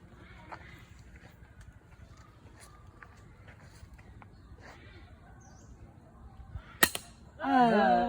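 A crossbow is fired outdoors at Khao Kho, Phetchabun, Thailand, giving one sharp, loud snap near the end, followed by a burst of noise. A quiet, steady outdoor background runs beneath it.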